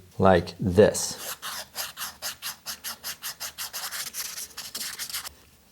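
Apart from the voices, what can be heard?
sanding the edges of a Squier guitar fretboard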